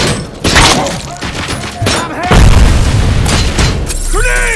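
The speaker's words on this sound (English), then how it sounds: "Grenade!" A grenade blast in the RoboCop: Rogue City video game sounds as a loud booming explosion with heavy low rumble, mixed with game combat noise and voices talking.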